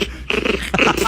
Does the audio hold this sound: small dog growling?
yes